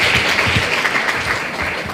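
Steady, full applause from a seated audience at a Korean policy forum on school violence and slow learners, continuous and fairly loud throughout.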